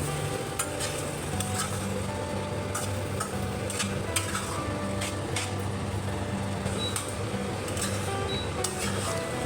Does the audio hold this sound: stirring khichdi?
yes